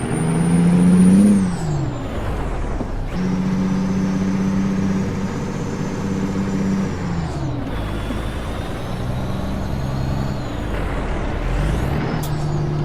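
Semi truck accelerating through traffic, its diesel engine rising in pitch in repeated pulls broken by gear shifts, with a loud air brake hiss at the start, close and continuous.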